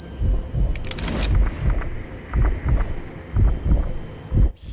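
Deep, thudding heartbeat pulses from a Tomb Raider film's sound design repeat in a slow, steady rhythm over a low hum, with a few faint clicks.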